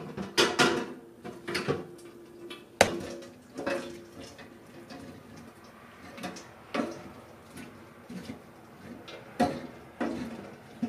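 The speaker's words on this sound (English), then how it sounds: "I'm gonna run it through the strainer." Cooked apples being worked through a strainer for apple butter, a series of close knocks and clunks of metal and utensils, irregular and spaced a second or two apart, moderately loud with no voices.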